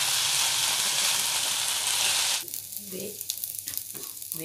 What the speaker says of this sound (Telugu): ఇవి లైట్ రెడ్ కలర్ వచ్చేదాకా వేయించుకోవాలి.